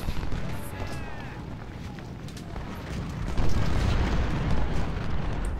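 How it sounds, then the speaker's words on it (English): Cannon and artillery fire rumble through a Civil War battle in the video game Ultimate General: Civil War, with dense overlapping booms and musketry at a distance that swell louder partway through. "I think we're in range of their cannons."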